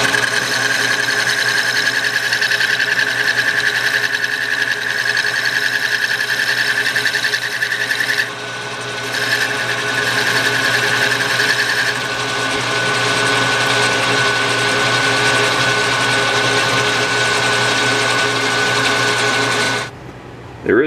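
A metal lathe spins steadily with a rat tail file held against the turning work, a continuous loud mechanical whir with a high whine that drops out briefly midway, running nearly alone until it cuts off near the end.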